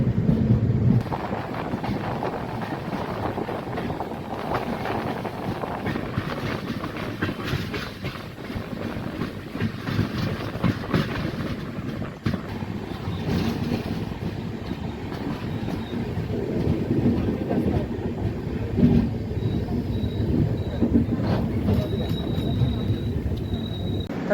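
The Hazur Sahib Nanded–Sri Ganganagar Superfast Express rolls along with a continuous loud rumble and rhythmic clatter of wheels on rails, heard from inside the moving train.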